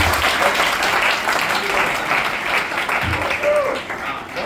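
An audience at a children's fancy dress competition claps loudly and steadily for a young boy, the applause filling the room before tapering off slightly at the end.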